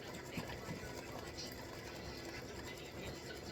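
An embroidery machine stitches a free-standing lace heart earring, giving a steady, even, rapid mechanical chatter that runs without a break, close and moderately loud.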